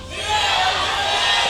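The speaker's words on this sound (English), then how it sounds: "Big cheer from the CJ fans in game number 2." A large crowd of fans roars and cheers at a League of Legends esports match, a loud, sustained wash of voices filling the arena without letup.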